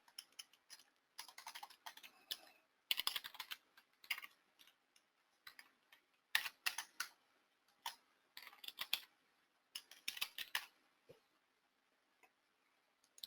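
Someone types on a computer keyboard in quiet bursts of crisp, close key clicks, separated by short pauses of near silence.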